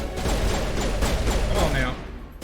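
Rapid gunfire bursts from the video game Mass Effect fill the clip, dense and continuous with repeated sharp shots over a steady rumble, while a voice talks over the action.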